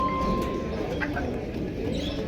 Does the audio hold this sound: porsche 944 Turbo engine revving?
no